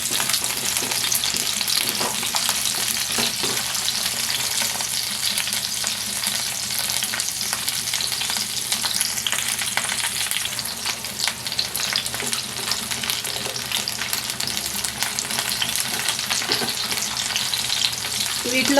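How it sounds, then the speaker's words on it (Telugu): Onions frying in a pan on a medium flame, a continuous close, crackling sizzle with occasional stirring scrapes and no talking. "మీడియం ఫ్లేమ్లో వేయించుకుందాం."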